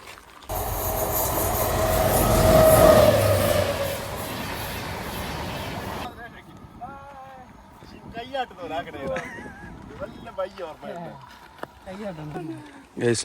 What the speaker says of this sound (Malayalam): അങ്ങനെ നമ്മൾ നടന്ന് കളനാട് റെയിൽവേ സ്റ്റേഷനിൽ എത്തിയിരിക്കുകയാണ്